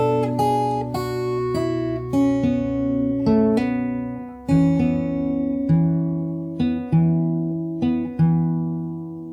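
Fingerstyle acoustic-style guitar plays a song at a slow pace, with plucked notes and bass tones ringing out alone in a calm, even rhythm, each phrase decaying before the next pluck.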